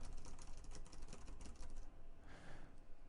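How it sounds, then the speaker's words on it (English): Keys clatter on a computer keyboard during a programming session, a quick, faint, irregular run of taps that slows and falls away partway through. "If I keep typing"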